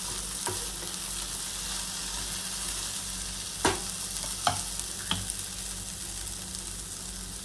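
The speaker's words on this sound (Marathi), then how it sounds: "थोडंसं कमी गॅसवर ठेवा तुम्ही आणि व्यवस्थितपणे भाजी मिक्स करून घ्या।" Okra bhaji cooking in a pan on low gas, a soft steady sizzle broken by a few sharp spoon clicks against the metal as it is stirred, no voice.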